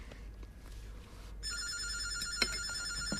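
A telephone rings, a bright repeating electronic trill starting partway through and continuing to the end, moderately loud over a quiet low hum with faint rustling.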